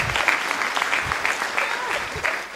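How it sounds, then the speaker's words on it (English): An audience claps steadily through a graduation ceremony, dense sustained applause filling the room, with some voices mixed in beneath it. "So let's clap"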